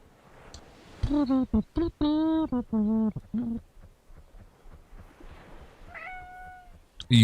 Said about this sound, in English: It was quiet and peaceful, and then all you hear is a meow.